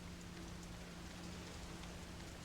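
Heavy rain drums steadily on thin window glass in a video game, a dense continuous patter with a faint low hum beneath, no voices.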